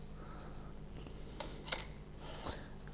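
Pencil sketching the outline of a cloud for an acrylic painting, with soft scratchy strokes that come in a few bursts and swells over low steady background hum.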